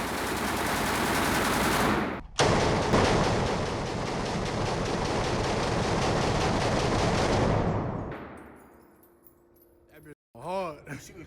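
Military machine gun at a shooting range fires one long, loud, unbroken burst with a brief gap near the start, then cuts off into quieter outdoor noise and a short vocal exclamation.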